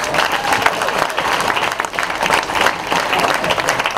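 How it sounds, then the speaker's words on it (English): Wedding guests give the catering staff a round of applause, a dense, steady burst of clapping from a full room, loud and close throughout. "Please give them a round of applause."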